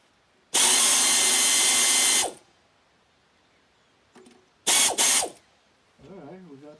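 A ratchet works to loosen a bolt during a car overheating repair, heard as a loud, close burst of rapid clicking, a brief pause, then two shorter clicking bursts, with a faint voice near the end.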